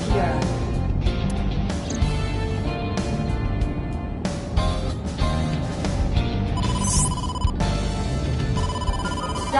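A telephone ringtone for an incoming call in the video game AI: The Somnium Files, chiming in a repeating electronic pattern over background music, with bright tones ringing near the end.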